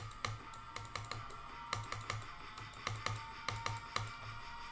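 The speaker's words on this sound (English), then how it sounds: "Did you hear me spamming my buttons?" Rapid bursts of clicking from computer buttons during a gaming stream, several quick clusters of sharp taps, close and fairly quiet, spaced through a steady faint hum.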